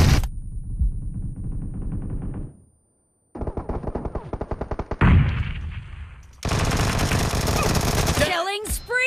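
Bursts of automatic gunfire ring out in a PUBG Mobile (BGMI) team deathmatch, with rapid rattling volleys separated by short pauses and ending in a dense stretch of continuous shooting.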